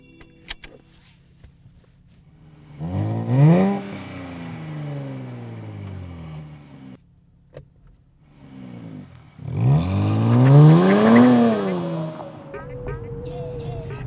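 A 2024 Nissan Z NISMO pulls away and accelerates in two strong revving surges with rising engine tones, close and loud, separated by a quieter stretch and easing into steady cruising.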